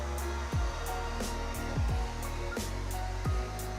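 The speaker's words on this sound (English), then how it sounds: "I will dry it with the hair dryer completely" A hair dryer blowing steadily while drying a toy poodle's coat during grooming, a continuous loud airy whoosh with brief shifts as the airflow moves, no speech.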